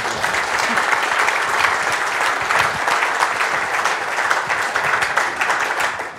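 Audience applause after a technical talk on elevation-aware routing with radar data, a steady, full round of clapping from a lecture-hall crowd sustained for several seconds before tapering at the end.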